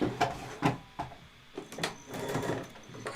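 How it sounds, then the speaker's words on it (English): A sewing machine stitches along the edge of fabric box pleats, short bursts of mechanical whirring and clatter separated by pauses, close and moderately loud, no talking. "So I'm going to sew right along the edge."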